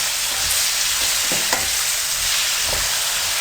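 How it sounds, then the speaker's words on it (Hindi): Potatoes frying in a pan for an egg and potato bhujia, producing a loud, continuous sizzle with a few scraping stirs and taps, no voices. "इसमें आलू को अब आपने फ्राई करना है।"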